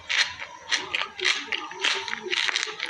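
Repeated crisp crunches of someone biting into crunchy food, several bites in quick succession, close and loud.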